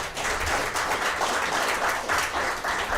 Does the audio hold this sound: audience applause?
yes